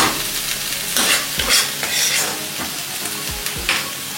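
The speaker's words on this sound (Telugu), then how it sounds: "కొంచెం అల్లం వెల్లుల్లి పేస్ట్ కూడా కొంచెం వేగేసిన తర్వాత" Ginger garlic paste fries in a pan for a beans and egg curry, a steady sizzle broken by several scraping stirs of a spoon against the pan.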